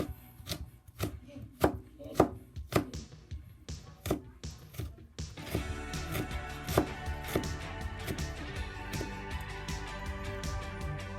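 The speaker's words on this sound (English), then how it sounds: "So we just cut off this little piece of ginger off there." A knife chops fresh ginger on a cutting board in a run of sharp, separate taps for about five seconds, then gives way to a busier, continuous clatter of rapid chopping, close and clear with no talk.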